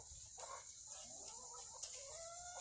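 Garden chickens cluck softly in short, scattered calls at a modest distance, with a faint sharper peep partway through and no voices.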